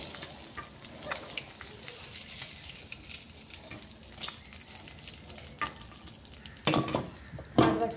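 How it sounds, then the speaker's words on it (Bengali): Fish fries in a pan at medium heat with a soft, continuous sizzle, broken by scattered scrapes and a few louder clanks of a utensil against the pan near the end. "বাকি মাছগুলোও আমি এইভাবে ভেজে নেব মিডিয়াম করে"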